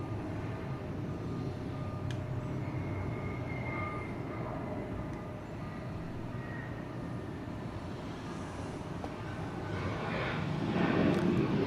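A narrowbody jet airliner descended from the DC-9 takes off at Atlanta, heard as a moderate, distant engine rumble that grows louder near the end.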